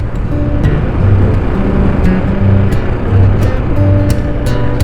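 A Forte 250 motorcycle rides along city streets with a steady, loud engine drone and rushing wind throughout, while low, intermittent gear-like tones shift underneath.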